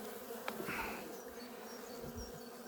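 Honeybees buzz softly and continuously close by, a faint, wavering drone with no talking.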